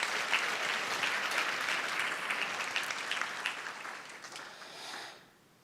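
A church congregation applauds in sustained, dense clapping that stays loud for about four seconds, then thins and fades out toward the end.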